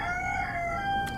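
A rooster crows in the video game Until Then, a drawn-out, tonal cock-a-doodle-doo sustained over a steady background ambience, moderately loud and alone without talk.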